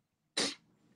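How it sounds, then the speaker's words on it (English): A single sharp burst of breath noise, short and explosive, like a sneeze close to the listener, followed by faint rustling and quiet breathing. "That was a sneeze."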